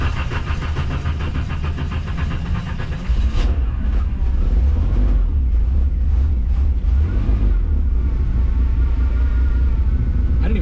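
A 1990 Isuzu Trooper engine idles close by with a loud, deep rumble. A brief clatter comes partway through, and afterward the running continues steadily and slightly louder.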